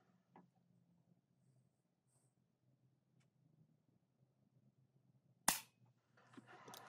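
A Pardini K12 Absorber air pistol fires one sharp, close crack out of near silence, followed by brief soft handling rustles and clicks.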